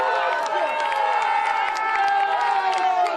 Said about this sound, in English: You can hear the cheers in the background.